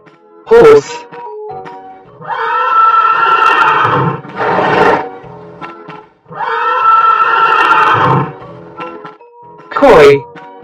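A horse neighs in two long, drawn-out whinnies, loud and close, with short bursts of a voice at the start and the end.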